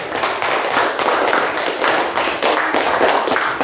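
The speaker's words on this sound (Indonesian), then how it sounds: "tepuk tangan buat teman-teman yang sudah berani untuk menjawab" A classroom of students claps for classmates who answered a question, a steady, dense patter of many hands close by that fills the whole stretch without pause.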